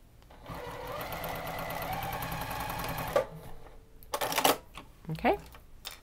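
A sewing machine stitches fabric for a pencil case bag, running in a steady rapid mechanical patter for about three seconds and then in short bursts with pauses between them. The sound is quiet and close.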